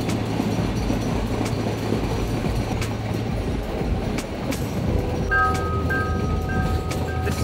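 A passenger train in southern Sri Lanka rumbles steadily along the rails with rhythmic clicks and rattles, loud and close, and a faint squealing whine joins in toward the end.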